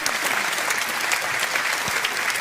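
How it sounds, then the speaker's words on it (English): Audience at a Reform UK election campaign rally in Hull clapping together, a dense, loud, continuous wash of applause without voices on top. "Round of applause there,"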